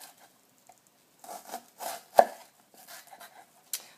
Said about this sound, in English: We're keeping the tip of our knife down on our cutting board